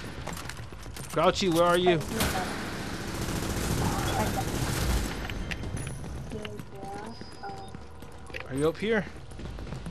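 Shotgun fire in the video game The Division, heard as a dense, noisy burst of blasts through the middle of the clip, with voices talking before and after.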